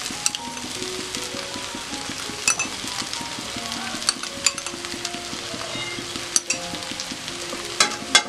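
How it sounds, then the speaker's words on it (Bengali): A frying pan of mixed ingredients with tomato sauce being stirred and tossed, sizzling steadily throughout, with repeated scraping strokes and clinks of the utensil against the pan close up. "দিয়ে আমি নাড়াচাড়া দিয়ে সবকটা উপকরণ মিশিয়ে নিচ্ছি"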